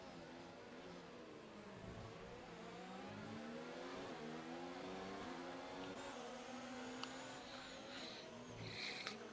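Formula race cars in a racing video game scream past in a pack, their high engine notes rising and sliding in pitch as they accelerate and shift, with a few faint clicks near the end.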